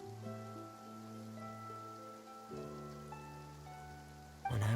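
Rain falls in Fontaine in the game Genshin Impact, a faint, steady patter beneath sustained tonal music, with a brief louder burst at the very end.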